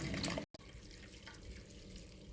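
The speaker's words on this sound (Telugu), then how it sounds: "ఇప్పుడు దీన్ని కూల్ వాటర్తో వాష్ చేసుకోవాలి ఒకసారి." Cool tap water runs steadily over freshly boiled and strained noodles for street-style noodles, a close, even rushing flow with a brief cut-out early on.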